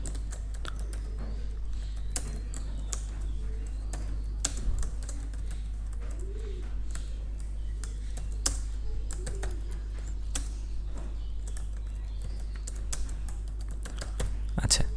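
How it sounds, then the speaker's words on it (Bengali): Steady typing on a computer keyboard while text is entered in Microsoft Word, with quick, close key clicks running through the whole stretch over a constant low hum. "দেন স্পেস দিয়ে আমি লিখি শফিক মিয়া"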